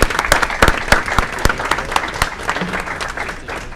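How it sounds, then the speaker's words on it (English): Audience applause at an Aurora city council meeting, a dense burst of many hands clapping close and steady throughout, with no talking over it. "Let's give them a round of applause."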